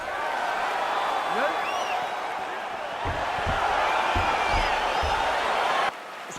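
Arena crowd cheering and roaring in EA Sports UFC 4 as a fight gets underway, a dense steady wash of noise with a few thuds partway through, briefly dropping near the end.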